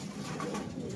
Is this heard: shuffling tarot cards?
no